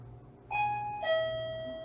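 A paranormal investigation device gives a two-note ding-dong chime, a bright tone followed by a lower one that rings on, sounding alone over a low steady hum.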